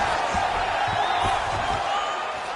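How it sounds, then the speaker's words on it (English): Arena crowd cheering in the UFC 5 video game during a UFC 298 fight, a steady broad roar held at high level throughout, with faint thumps and commentary-like voices mixed underneath. "Crowd may be drunk, but they're absolutely loving it."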